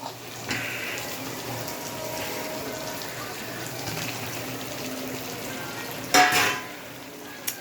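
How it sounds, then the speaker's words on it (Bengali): Potatoes frying crisp in a pan give a steady, moderate sizzle with faint stirring, capped near the end by a short louder burst of spitting oil or scraping. "আলুটা খুব কড়া করে ভেজে ফেলেছি"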